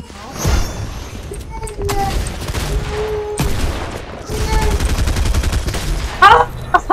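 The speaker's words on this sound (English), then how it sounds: "That was the hand cannon that I died to?" Fortnite battle with a hand cannon: repeated heavy gunshots and bursts of gunfire, loud and close, mixed with impacts while players shout and talk excitedly.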